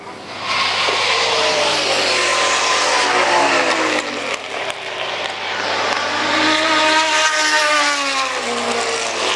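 Ferrari racing cars at a festival race meeting roar past continuously, engines loud and close with rising and falling revs as several cars battle for position, a steady wash of engine noise throughout.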